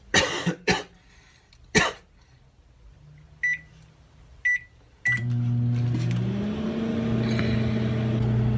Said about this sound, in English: then we're gonna microwave the burger for a bit just to melt the cheese